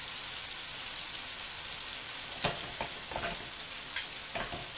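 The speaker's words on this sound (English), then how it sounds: "chicken will be finishing to cook over here, and I've put the vegetables back on" Chicken and vegetables fry in a pan with a constant close sizzle, broken by a few sharper crackles and stirring scrapes toward the end.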